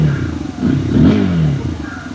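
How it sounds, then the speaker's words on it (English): A Bajaj Pulsar motorcycle's deep, bassy engine idles close by, with a brief blip of revving in the middle before settling back to a muted rumble. "let me give you a brief taste of the exhaust note"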